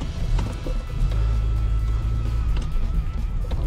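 A Suzuki Swift engine drones loud and close from inside the moving car, a steady low rumble that swells slightly as the throttle is pressed, with no talk over it.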